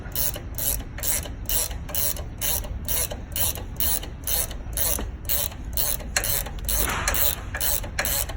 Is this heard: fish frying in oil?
no